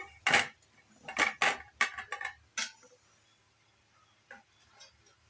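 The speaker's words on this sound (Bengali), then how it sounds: "এবার আমি একটা শুকনো পাত্র নিয়েছি পাত্রের মধ্যে আমগুলো নিয়ে নিচ্ছি" Cut raw mango pieces dropped into a dry bowl for sweet-and-sour mango pickle, giving several close, sharp clattering knocks in quick bursts, then a few softer taps after a pause.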